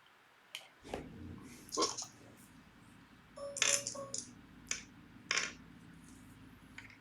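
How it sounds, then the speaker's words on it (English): Dice clatter on a table during a tabletop role-playing game, several sharp rattling tumbles and clicks spaced over a few seconds, close and fairly quiet. "Just the sound of the dice tells me."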